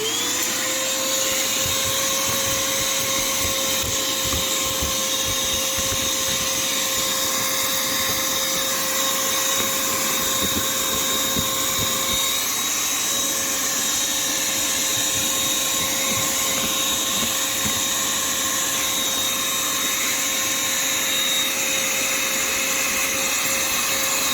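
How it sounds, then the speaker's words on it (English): A vacuum cleaner runs continuously with a steady high whine, the suction pitch shifting slightly as the nozzle moves over a Mustang car seat. "we'll give it a vacuum and see what we got"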